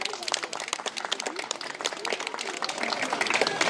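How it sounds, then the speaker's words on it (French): Spectators at a fashion show applaud with a lively, sharp run of close hand claps that keeps building. A voice is heard faintly underneath. "On peut l'applaudir, elle est très très forte."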